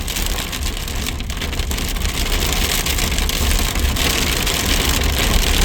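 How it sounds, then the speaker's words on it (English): Hail and heavy rain from a storm's core pound down in a dense, constant, loud clatter that drums evenly on a surface throughout. "Hail core though, that's nice."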